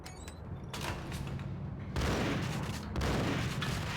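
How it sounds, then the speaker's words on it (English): Gunfire in the Max Payne video game, several loud, sharp bursts of shots in close succession, with two strong volleys near the end, against steady combat background noise. "I shot this guy twice just now"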